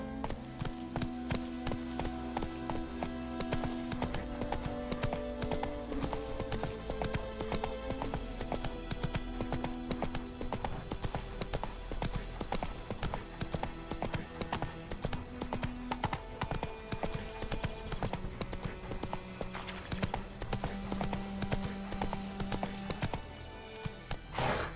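A horse named Roach gallops with steady, rapid clip-clopping hooves throughout, close and loud over a dense layer of game music and ambience, with an occasional whinny.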